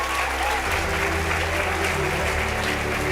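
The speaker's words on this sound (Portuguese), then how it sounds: "Pode aplaudir" Church congregation applauding at a Portuguese-language worship service, a loud continuous roar of clapping with crowd noise and a low musical backing beneath.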